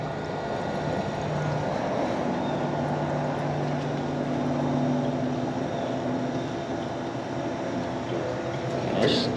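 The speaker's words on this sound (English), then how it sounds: "The little pump gets after it." A small water pump filling a race car radiator runs steadily nearby, a constant low hum and whir with faint splashing that holds level throughout.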